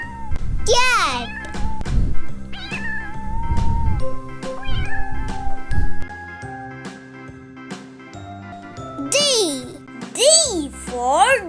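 Cartoon cat meows ring out several times, high rising-and-falling cries near the start and again near the end, set within a children's alphabet song with a voice and bright musical tones.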